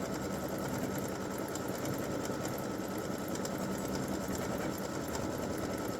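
A sewing machine runs steadily, stitching an appliqué Christmas gnome design with a candy cane, a continuous close mechanical whir with no pauses and no voices.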